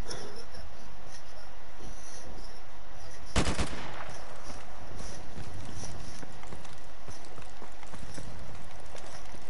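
A short, loud crack of gunfire in the online shooter Call of Duty: Modern Warfare Remastered, standing out from steady background noise and clatter, with no voices.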